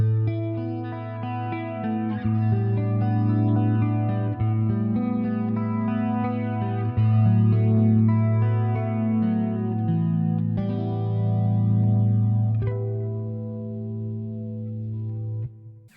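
A Mitchell MD200 electric guitar played on its neck pickup through effects, sustained distorted chords ringing with chorus shimmer and a touch of echo, a steady strummed passage fading out at the end.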